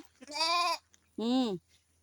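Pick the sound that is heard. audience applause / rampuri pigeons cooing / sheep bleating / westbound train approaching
sheep bleating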